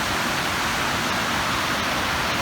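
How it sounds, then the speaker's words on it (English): A river pouring out of a cliff face in Jasper, a loud, dense, unbroken rush of falling water filling the scene with no other sounds. "So that river is coming out of that cliff face."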